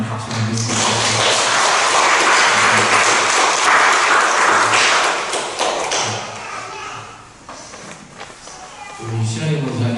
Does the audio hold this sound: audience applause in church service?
yes